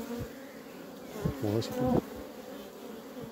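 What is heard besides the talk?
honeybees buzzing at a hive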